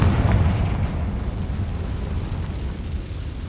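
The Confringo fire spell explodes in the video game Hogwarts Legacy. It starts as a loud, deep, rumbling blast and fades into a steady roar, with no voices over it.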